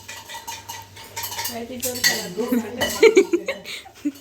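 Spoon stirring sugar and coffee in a cup, with bright metallic clinks and scraping against the ceramic that grow louder toward the end, while voices and light laughter sound in the background.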